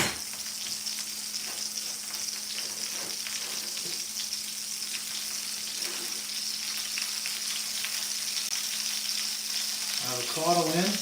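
Avocado fries in a pan with a steady, close hiss and sizzle that runs throughout, along with a faint hum and occasional stirring, and a voice is heard briefly near the end.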